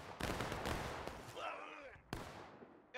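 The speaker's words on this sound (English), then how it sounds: "Just keep firing, boys." Musket fire in War of Rights, a Civil War battle game, pops in a ragged series of distant and nearby shots with rolling echoes, as a voice shouts briefly amid the volleys.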